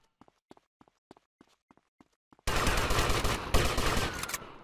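Gunfire in GTA Vice City Definitive Edition: evenly spaced single shots crack at a steady pace, then a loud, dense barrage of continuous shooting erupts and rages on without pause.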